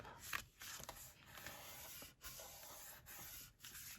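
A burnishing tool scores a line into paper for a handmade junk journal flap, giving soft, close rubbing and scraping strokes with a few brief pauses between passes.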